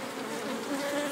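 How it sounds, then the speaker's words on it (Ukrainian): A bee hums near beehives among flowering trees, a steady close buzz that lasts about a second. "бджола гудить"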